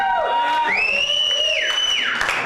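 Comedy-night crowd in a bar setting, a room of drinkers cheering with a loud, sustained whistle that rises and holds high, over a steady roar of crowd noise.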